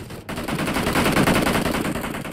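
Sustained rapid automatic fire from a DP machine gun in a battle royale video game, a dense rattling burst that starts abruptly and keeps going, loud and close.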